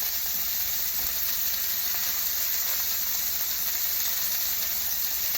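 A steak fries in a pan with a steady, bright sizzle that hisses on unbroken and evenly loud throughout.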